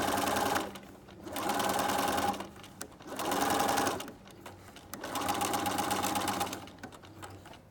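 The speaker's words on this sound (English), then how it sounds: "I'm stitching all the way around." A sewing machine stitches around the edge of a mitered table napkin in three sustained, close runs of steady whirring, separated by short pauses.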